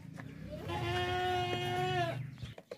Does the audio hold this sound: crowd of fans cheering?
no